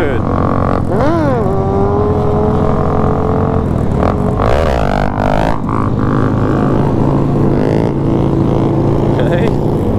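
Motorcycles revving on a group ride, the first ride of the year: a loud, continuous engine drone with rising throttle sweeps near the start and again midway, with engines idling steadily between the revs.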